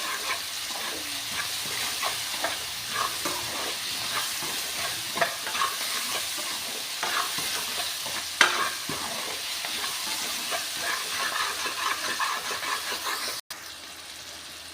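Cauliflower sabzi frying in a pan as salt is stirred in, a continuous close sizzle and hiss overlaid with frequent scraping strokes of a spatula, ending in an abrupt cut.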